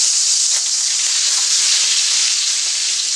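Steady, bright sizzle of chicken frying in butter in a pan, a continuous close hiss with faint crackles and no talking.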